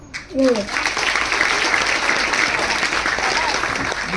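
An audience at a school admission ceremony breaks into sustained, dense applause that carries steadily throughout, with a brief voice audible just before it swells.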